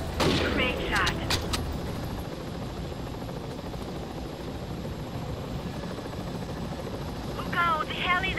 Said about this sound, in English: Look out! The heli is attacking!